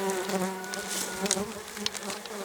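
Dense buzzing of many bees from a barrel hive, steady and close, with no talking.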